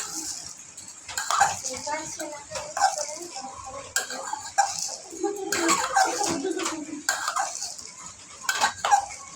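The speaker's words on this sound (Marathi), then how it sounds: "परत वरनं कांदे कोथिंबीर टमाटर टाकूया परत मिक्स करू" Bhel being mixed with onions, coriander and tomatoes in a bowl, with repeated clinks and scrapes of a spoon against the dish in an irregular rhythm, close by, while someone talks over it.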